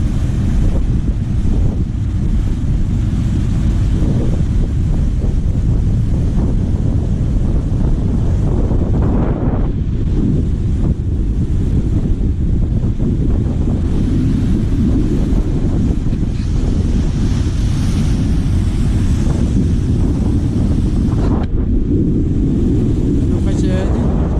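Rough sea waves pound the shore under heavy, continuous wind buffeting the microphone, a loud unbroken roar with surging swells throughout.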